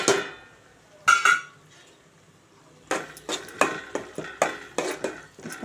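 A spoon stirs coconut, poppy seed, garam masala, coriander and cumin powders into a curry in a metal pot. One scrape, a pause, then a run of quick clinking and scraping strokes, close and moderately loud.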